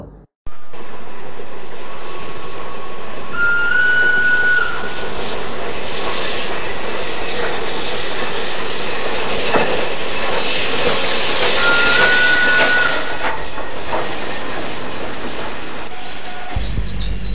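A train sound effect for an audiobook: a steady loud rumble of a moving train with two long horn blasts, one early and one later, ending abruptly.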